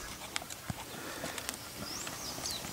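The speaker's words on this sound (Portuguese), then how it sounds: "Cavalo ao passo" A six-year-old Lusitano horse walks calmly at a stud farm, hooves giving a few light, spaced clip-clops against faint background birdsong.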